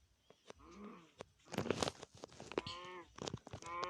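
A Minecraft cow moos in a series of short, distinct calls separated by brief gaps, fairly loud and close, with no talk over them.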